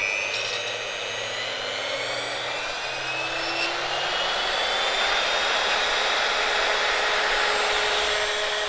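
Immersion blender whirring steadily as its speed is gradually raised, while homogenizing a Bellini drink; the pitch slowly climbs in a continuous, close, loud motor whine with no talking.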